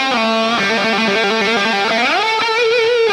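Electric guitar through a NUX MG-30 crunch preset plays a chord riff with a crunchy, overdriven tone and a reverb tail, sliding up toward the end, loud and close.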